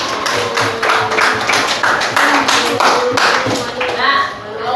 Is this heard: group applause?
yes